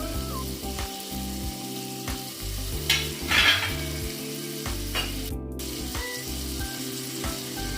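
Tomato and onion sauté in a pan for a spicy crab gravy, giving a steady sizzle broken by bursts of stirring and scraping against the pan and a brief clatter, without any talking.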